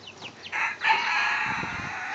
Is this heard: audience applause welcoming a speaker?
no